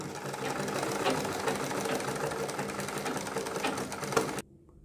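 Sewing machine stitching around a kurti neck pattern beside buckram, a continuous rapid whir that runs for about four seconds and then cuts off abruptly.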